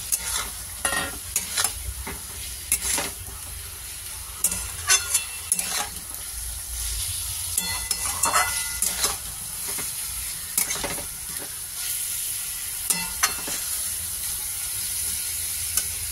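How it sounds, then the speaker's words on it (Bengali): Potato and egg stir-fried together in a pan, a running sizzle broken by frequent clattering spatula scrapes and knocks in an uneven rhythm, close up, with no one speaking. "এবার আমি আলু আর ডিমটা একসঙ্গে দিয়ে একটু কষে নেব।"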